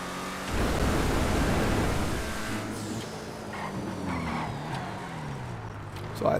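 The Batmobile, a supercar in the GTA 5 Online video game, drives with a broad engine roar and road rush that swells early, then eases to a steadier hum with shifting engine tones.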